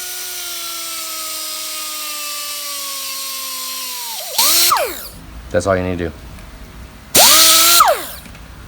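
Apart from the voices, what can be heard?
deburring tool spinning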